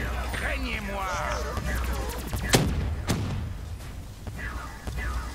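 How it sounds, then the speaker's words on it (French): Ammunition in the Call of Duty Black Ops 3 zombies mode sets off a fireworks effect, sharp popping bursts and a couple of loud cracks over the game's background noise and effects. "voyez donc les feux d'artifice, c'est dû à mes munitions"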